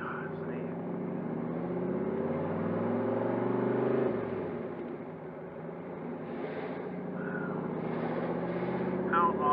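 A 1966 Chevrolet Corvette Stingray with a big-block 427 V8, five-speed manual and side-pipe exhaust fitted with small stainless mufflers, rumbling steadily at close range with a low engine drone and a brief dip midway, while people talk over it.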